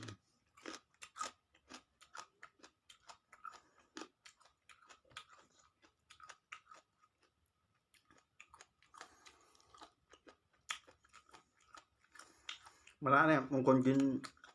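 Crunchy steamed squid being chewed and bitten, with soft, irregular close-up crunches and mouth clicks spread throughout, then a burst of louder sound near the end.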